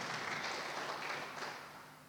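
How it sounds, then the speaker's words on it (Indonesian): Soft, fairly distant applause from a church congregation during a worship service in Bondowoso, a brief wash of clapping that thins toward the end. "Tepuk tangan buat Tuhan kita."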